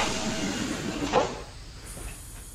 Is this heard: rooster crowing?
no